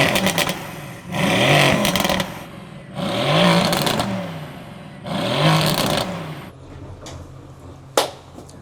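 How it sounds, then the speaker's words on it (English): A Mercedes-AMG GTS twin-turbo V8 revs in three strong, swelling bursts about a second long each, separated by brief idle pauses, then settles into a low idle with a short sharp pop near the end; no talking. "Melissa, can you do the honors, give some revs here in the GTS?"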